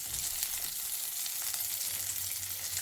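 Chopped onions dropped into hot oil for a restaurant-style vankaya pakodi curry, giving a steady bright sizzle and crackle, close and continuous, with no talk.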